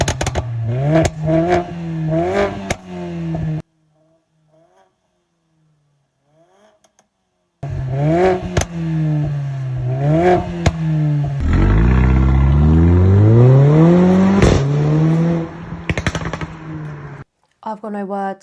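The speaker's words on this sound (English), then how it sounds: "I'm going to pop the video on the screen now to hear that beautiful exhaust sound" Mercedes-AMG exhaust revving loudly up close, a series of sharp rising blips at the start, then a quiet gap, followed by more revs and a long climbing acceleration with pops and crackles before it cuts off.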